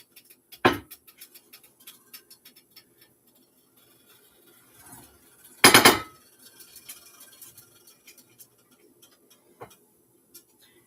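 Omelette sliding from a frying pan onto a plate, heard as a sharp clatter near the start, a louder scraping clunk midway, then a smaller knock near the end, with faint ticks between.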